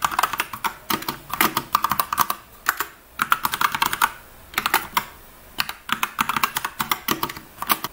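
Brisk typing on a computer keyboard at close range, with dense runs of crisp key clicks broken by short pauses, and no voices.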